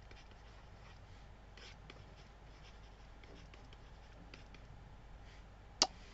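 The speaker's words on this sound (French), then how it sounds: "Je dois écrire ceci." Handwriting on paper while working through a math limit problem: faint, soft scratching strokes in short bursts, with one sharper tap near the end, quiet and close.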